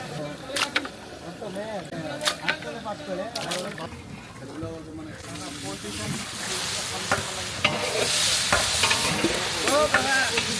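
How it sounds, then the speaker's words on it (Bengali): About 20 kilos of poultry meat fry in a large pot of spices at a village wedding, giving a loud, close sizzle and hiss with scraping stirs, while someone talks over the first half. "পোলট্রির মাংস এখন ফ্রাই করা হচ্ছে।"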